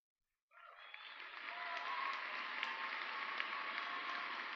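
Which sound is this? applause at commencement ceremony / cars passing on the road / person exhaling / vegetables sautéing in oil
applause at commencement ceremony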